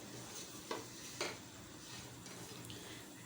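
Dry fruits for sheer khurma fry in a pan with a soft, steady sizzle, broken by two brief scraping stirs; fairly quiet and close, with no talking.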